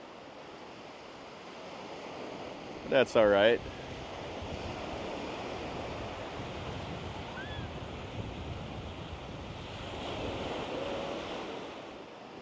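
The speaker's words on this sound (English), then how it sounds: "that wind is starting to pick up a little bit now" Wind and surf at Ao Manao Beach in Thailand, a steady broad wash of waves and gusting wind running throughout, with a brief burst of voice and a short spoken remark early on.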